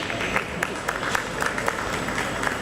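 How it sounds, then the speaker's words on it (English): A crowd at an inauguration ceremony applauds steadily, the clapping dense and continuous with a few sharper individual claps standing out. "a big round of applause"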